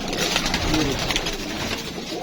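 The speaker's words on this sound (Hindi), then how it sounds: "ये देखें अभी ये भी कबूतर है" Pigeons kept by a Karachi fancier coo softly in their loft, low murmuring calls repeating close by under a busy background hum.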